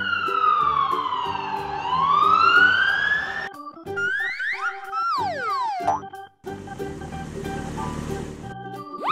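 A toy black police car sounds a loud electronic siren, sweeping wails shifting into rapid warbling tones in several distinct patterns, with bursts of noise between them.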